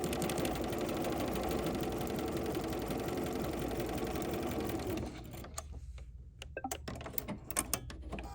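A BERNINA 990 sewing machine stitches a quarter-inch quilting seam on a watermelon mat in a steady, fast mechanical whir for about five seconds, then stops, leaving scattered soft clicks and handling taps.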